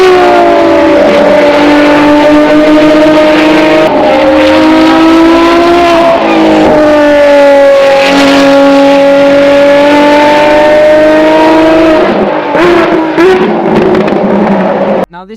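A Ferrari FXX race car screams along a track at full throttle, its loud engine note rising and falling steadily through gear changes across the whole stretch before it fades abruptly at the end.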